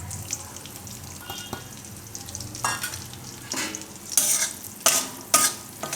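Amaranth flour roasting in ghee in a pan, soft sizzling under repeated scraping and stirring strokes that grow louder toward the end.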